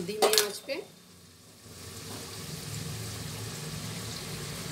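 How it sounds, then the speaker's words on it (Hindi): Onions frying in a pan for nihari, a steady soft sizzle after a few clinks and stirring scrapes at the start, continuing evenly and fairly quiet. "इधर ये प्याज फ्राई हो रहा है"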